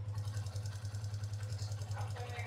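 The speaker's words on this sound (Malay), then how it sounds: "Tapi bunyi tepet kuat. Ni. By the way, kalau bunyi tepet kau jangan rem. Kau biarkan idle, kau dengar bunyi dia." A motorcycle engine idles steadily with loud, rapid valve tappet ticking from a worn valve clearance, a constant mechanical clatter riding over the low engine hum, close and unbroken.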